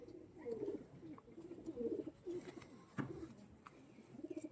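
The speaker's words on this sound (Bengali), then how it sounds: "দেখুন একদম অরিজিনাল পায়রা" Pigeons of a pure Magnet breed, sold as tournament birds, give soft repeated coos in a close, fairly quiet series of low rolling calls with no talk over them.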